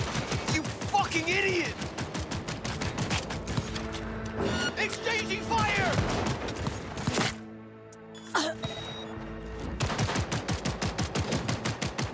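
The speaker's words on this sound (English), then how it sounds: "Exchanging fire!" Rapid bursts of gunfire in Cyberpunk 2077, dense clattering shots in fast runs with a short lull in the middle before the firing resumes, mixed with shouting voices.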